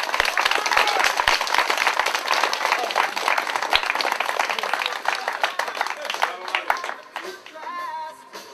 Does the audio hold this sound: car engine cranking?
no